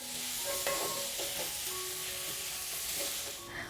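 Mango pickle mixture sautéed and stirred in a pan, a steady broadband sizzle with scraping stir strokes and faint clinks, close and continuous throughout.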